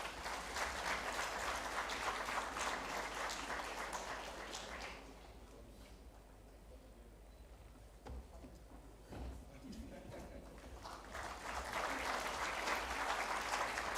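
Applause from an audience at a sustainable development inauguration ceremony swells loudly for several seconds, thins to a quieter spell in the middle, then builds back up to full clapping near the end.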